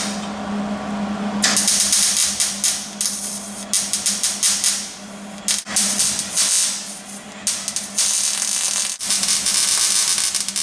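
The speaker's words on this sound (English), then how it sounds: "Let's get to welding in these support bars so this roof isn't so soft." Support bars get welded into the roof of a Dodge Magnum with a 3.5L V6, a loud crackling, buzzing arc in bursts of a second or two, broken by brief pauses, close up and with no talking.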